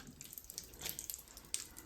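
Water draining from a boiler into a bucket, a light splashing trickle with scattered drips and small splats, fairly soft and close, no talking.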